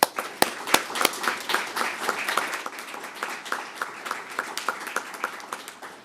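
Room applause for police officers and staff at a police department crime update press event, starting with a few loud close claps then settling into a thinner, uneven patter that gradually fades.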